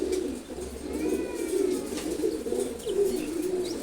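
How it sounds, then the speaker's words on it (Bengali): A pair of khaki pigeons coo continuously in low throbbing calls close at hand, with faint chirps and light rustling in the background and no speech. "খাকি কবুতরগুলো অ্যাকচুয়ালি খুবই ফ্রেন্ডলি হয় দেখেন ওরা কিন্তু ভয় পায় না"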